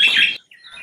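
A common myna gives a single harsh, rasping call close by, followed after a brief gap by a fainter, thinner note.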